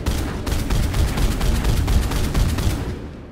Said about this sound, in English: We'll start by just firing from the hip